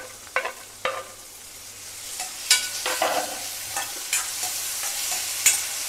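Onions and chopped tomatoes stirred in a frying pan, a spatula scraping and clicking against the metal in irregular strokes over a soft, steady sizzle, close and moderately loud.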